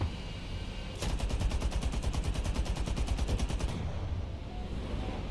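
Aircraft guns strafe in rapid, evenly spaced bursts for nearly three seconds in War Thunder, set against a steady engine drone.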